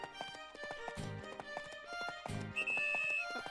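Horse hooves clip-clop in a steady trotting rhythm in the Professor Layton and the Miracle Mask video game, with a brief whinny-like tone, over bright game music at moderate volume.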